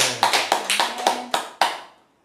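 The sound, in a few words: church congregation applause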